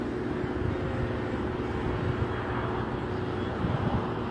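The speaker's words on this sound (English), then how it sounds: "You can hear it. It's a plane." Fixed-wing airplane flying overhead outdoors, a continuous low engine drone with a faint steady tone, moderately distant and unbroken, roughened by wind on the microphone.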